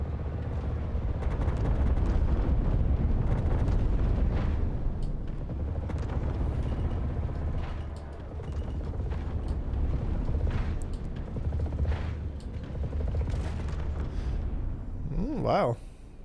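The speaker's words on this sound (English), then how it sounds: "let me see how long it takes me to kill a Connie with my ballistics" Ballistic guns fire steadily at a Connie ship in a space-combat game, a dense rumbling barrage of shots and engine drone running for several seconds with a brief sharper burst near the end.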